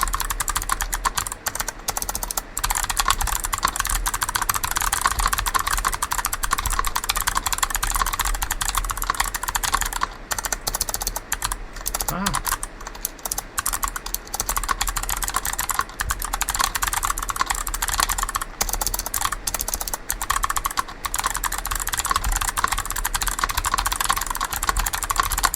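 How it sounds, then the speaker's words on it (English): Rapid, continuous typing on a rebuilt MX-mini mechanical keyboard, its dense clicking keystrokes close and loud throughout, with no talking. "If you guys would like to hear this, this keyboard."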